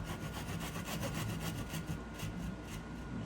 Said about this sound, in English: I'm gonna take my saw and I'm gonna cut all those lines I just drew